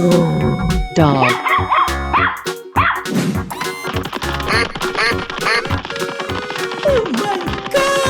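A dog barks repeatedly in a 3D animal slide game, sharp yips mixed with quacking duck calls and cheerful game music, busy and loud throughout.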